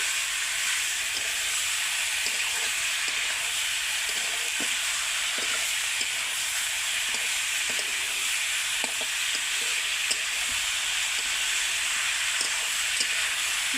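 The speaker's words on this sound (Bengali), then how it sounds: "ঝালের গুঁড়ো, হলুদের গুঁড়ো আর আদা রসুন আর পেঁয়াজকে দিয়ে ভালো করে চিকেনটাকে কষিয়ে নেবে এইভাবে" Chicken sautéed with chili powder, turmeric, ginger, garlic and onion. It gives a steady, even sizzle with soft stirring scrapes and clicks throughout, and no one speaks.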